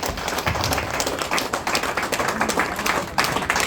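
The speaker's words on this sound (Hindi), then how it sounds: "एक बार जोरदार ताली हो जाए अपने आप के लिए।" An audience claps at a branch opening ceremony, steady dense applause held at an even level throughout, with no talk over it.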